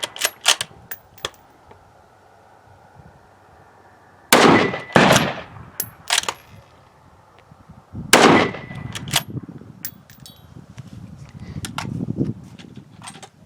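A Mossberg MVP Predator bolt-action rifle fires on a timed course: a few sharp close cracks early, then two loud shots several seconds apart, each trailing off, with handling clatter and quiet background noise between.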